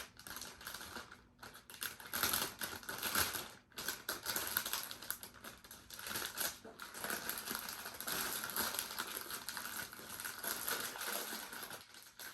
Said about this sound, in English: Just remove this tape here as well.